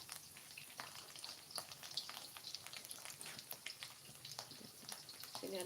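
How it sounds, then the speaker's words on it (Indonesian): Tempe frying in oil in a home kitchen, a faint, steady crackling sizzle with scattered pops throughout and no voices. "Ini ada goreng tempe."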